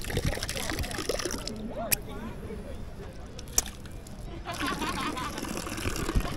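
A public drinking fountain in Milan gushes and splashes on a city street, a steady close stream of running water with sharp spatters, while a person talks over it.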